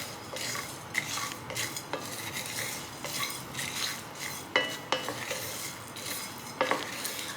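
Biryani masala spices dry-roasting in a pan, stirred with a utensil that gives repeated scraping and clinking strokes over a soft, steady rustle, close and fairly quiet with no voices.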